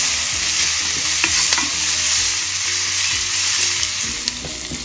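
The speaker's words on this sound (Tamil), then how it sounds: "வெங்காயத்தை நல்லா கலர் சேஞ்ச் ஆகிற அளவுக்கு வதக்கிக்கலாம்." Onions stir-fried in a pan until they change colour, with a loud, dense, steady sizzle close up and light stirring clatter mixed in, and no voices.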